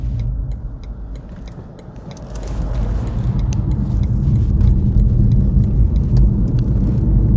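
A BMW i3 range-extender electric car being driven, with a low, steady road rumble that builds as it speeds up, light ticking clicks on top, and no talking.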